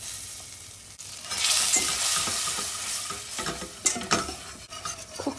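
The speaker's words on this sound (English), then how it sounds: "Cook that butter and flour out for a couple of minutes till it goes lighter in colour." Butter and flour cook together in a pan for a white sauce, a soft sizzle that swells and holds while a utensil stirs and scrapes against the pan, with a few sharper clinks toward the end.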